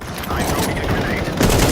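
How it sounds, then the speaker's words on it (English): Sustained loud blast and rumble from a grenade explosion in Counter-Strike 2, with a fresh burst near the end of the short stretch. "I'm throwing a grenade."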